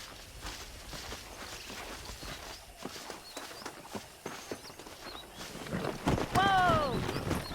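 Horse hooves clip-clop on the ground in the Red Dead Redemption video game, a quiet uneven patter of steps that builds toward a louder burst with voices and a whinny-like cry near the end.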